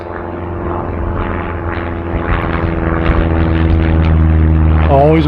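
A propeller airplane drones overhead near Letort Spring in winter, a loud steady buzz of engine harmonics that grows slightly stronger as it passes, with no talking.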